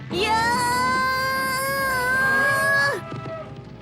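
A buffalo gives one long, loud, sustained lowing call that ends abruptly, followed by quieter background noise.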